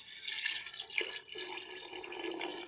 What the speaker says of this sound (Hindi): इतना पानी डालेंगे।